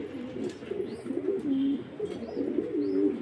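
Young pure Andalusian indigo pigeons in a farm coop coo repeatedly in close, warbling rolls that rise and fall in a steady rhythm, clear and fairly loud with no talking.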